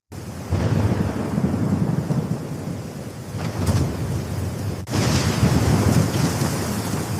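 Heavy rain pours steadily with rolling thunder underneath, a loud continuous downpour that briefly dips then surges again.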